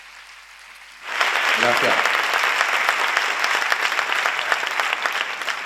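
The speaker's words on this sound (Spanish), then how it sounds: "Así que os pediría fuerte aplauso" A summer course conference audience breaks into loud, sustained applause after a quiet moment, dense clapping continuing steadily while a voice briefly speaks near the start.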